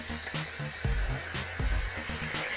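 A DynaMax core trainer rotor spins steadily in a circular motion, giving a close, fairly quiet whirring hum with a rhythmic pulsing as the circles repeat, without talking.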